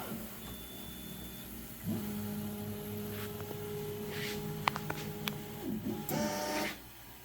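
A Refinecolor printer runs a nozzle check, a steady mechanical hum with a sustained motor tone, sharp clicks and a final whirring carriage movement, close up with no talking.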